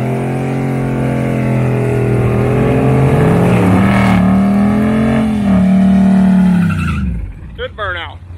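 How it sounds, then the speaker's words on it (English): A car doing a burnout at a drag strip during bracket racing: a sustained, loud engine roar with tire squeal that rises in pitch, then cuts off abruptly near the end, leaving quiet with a few faint sounds. "make sure she does another good burnout"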